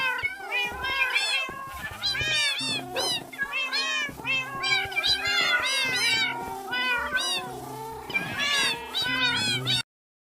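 Many Minecraft cats meow constantly, overlapping high mews and drawn-out calls packed close together, loud and busy throughout before stopping abruptly.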